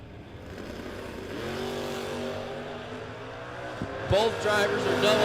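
Two drag cars, a 1968 Plymouth Cuda and a small-block 1968 Camaro, rev loudly at the line, engine harmonics rising and holding, then launch with a sharp burst near the end while an announcer talks over them.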